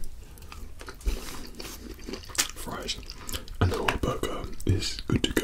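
Close, crunchy bites and wet chewing of a McDonald's chicken, burger and fries meal, with repeated crisp crunches and mouth sounds over a soft, murmuring voice.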